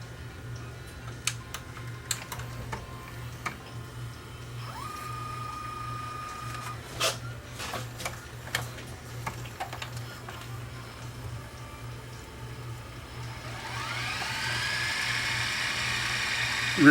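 A Toshiba VCR rewinding a tape at high speed, giving a steady low mechanical hum broken by scattered clicks and ticks, then a rising whir toward the end as the tape speeds up, with no voices.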